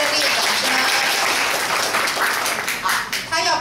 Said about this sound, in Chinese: 我们给你热烈的掌声。